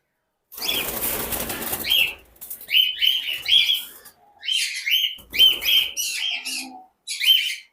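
Sharp bursts of wing flapping alternate with repeated high chirps and squawks from white cockatiels close by in a cage, in short clustered bouts separated by brief pauses.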